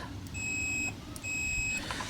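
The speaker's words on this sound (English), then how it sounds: "you can hear the little beep" Two steady high-pitched electronic beeps from a continuity tester checking a part on a GMC Trailblazer, each lasting about half a second, separated by a short gap, over faint background hum.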